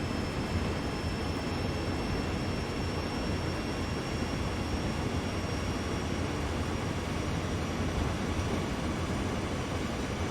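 A Q352 manifest freight train on the Sand Patch Grade in the Train Sim World 2 PC game runs as a dense, unbroken rumble and roar that stays level throughout, with no talk.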